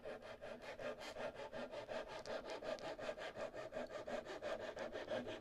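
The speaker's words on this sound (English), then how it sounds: "So I got a little technique where I get the saw started and then I use my thumb as a guide back here." A small hand saw trims a wooden plank on a scale model sailboat, making quick, even back-and-forth strokes in a steady rhythm, close and clear with no talking.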